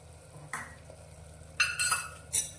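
A spatula stirs spice paste inside a pressure cooker over a low background hum, with a few short scraping and clinking strokes against the metal.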